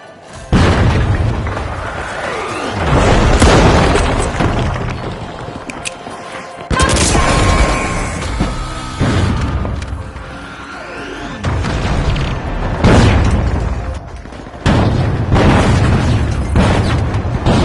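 Frag grenade explosions in a shooter video game, several loud booming blasts with rumbling tails rolling out one after another amid dense gunfire-like clatter, with a brief quieter gap between bursts.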